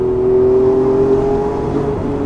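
A lightweight sports car engine holds a high, piercing steady note on a mountain road, droning loudly and evenly, close by, with slight pitch wavering and no voices.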